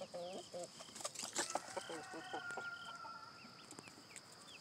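Chickens cluck and fuss at close range in a backyard coop as the hens are let out, with a rooster crowing among the birds against a steady high background hum.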